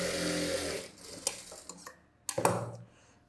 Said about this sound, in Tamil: எஜ்ஜு தையல் போடுறேன்